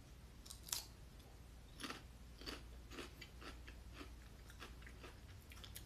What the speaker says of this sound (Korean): 과자 먹는 소리 잘 들려?